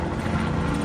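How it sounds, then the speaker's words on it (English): A helicopter passes near a cruise ship, its loud, steady rotor and engine roar filling the air with no talk over it. "just wait till the chopper flies by."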